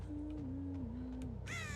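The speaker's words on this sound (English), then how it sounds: "This is why I have the crows." Crows caw faintly in the horror video game Dead by Daylight, over a steady low hum and game ambience, ending with a brighter burst of sound.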